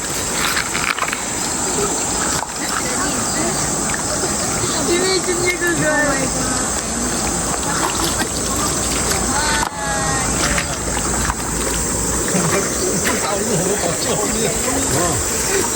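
Constant loud rush of fast-flowing stream water close by, with voices talking over the steady roar.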